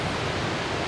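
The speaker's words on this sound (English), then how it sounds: "This is the beauty of the waterfall here, Calandula." The Calandula waterfall in Malanje, Angola, roars as a dense, steady rush of falling water, a broad even hiss that fills the whole moment with no voices.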